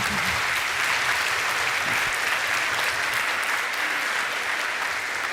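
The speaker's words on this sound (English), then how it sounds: "on peut vous applaudir" Loud, dense applause from a large audience at a peace forum, a continuous roar of clapping that holds level throughout without speech.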